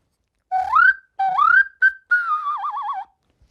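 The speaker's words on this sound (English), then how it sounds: "you can do crazy things like putting it on the wrong end for a very strange whistle" A breathy penny whistle, blown from the wrong end, plays a few short rising notes, then a longer warbling tone that wavers up and down, heard alone and close.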